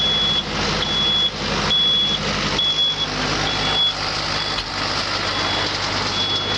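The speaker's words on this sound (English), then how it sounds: "Now I'm just running the feed mixer." Davis feed mixer and hammer mill combo driven by a tractor PTO, a steady loud mechanical drone with a high electronic beep repeating at a regular rhythm throughout.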